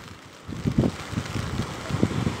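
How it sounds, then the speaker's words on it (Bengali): Strong wind buffets the microphone outdoors at the water's edge, where fishing trawler lights show on a rainy evening, as a steady rushing roar with gusty low thumps rising and falling throughout. "খুবই হাওয়া দিচ্ছে।"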